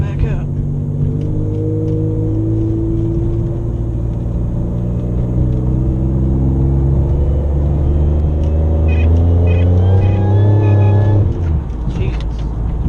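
A Pontiac Grand Prix running on E85 accelerating hard, the engine note climbing steadily in a loud, close in-cabin drone before easing off near the end.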